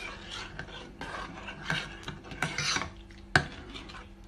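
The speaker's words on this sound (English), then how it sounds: "Just stir that in" Spoon scraping and rasping around a pot as sugar is stirred into liquid for mandazi, Somali donuts, in irregular strokes with a sharp clink of metal near the end.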